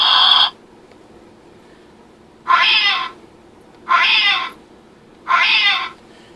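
Electronic Star Wars loth-cat toy lets out four short, bright synthetic meows, one at the start and three spaced about a second and a half apart, with quiet gaps between and no talking.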